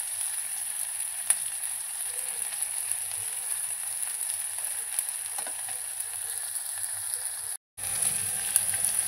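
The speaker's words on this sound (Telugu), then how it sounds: "చిన్న ముక్కలు కట్ చేసుకొని ఫ్రై చేయాలి." Chopped onions fry in a pan for mutton brain (bheja) curry, giving a steady close sizzle with faint stirring scrapes, briefly cut off near the end before resuming.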